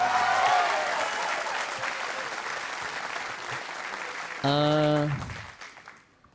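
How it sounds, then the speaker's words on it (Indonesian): An audience at the grand final of a televised Qur'an recitation contest claps in a dense, steady burst for several seconds. A brief tonal sound cuts in near the end before the applause fades. "Tepuk tangan."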